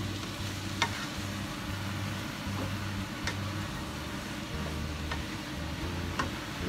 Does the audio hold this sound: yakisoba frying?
yes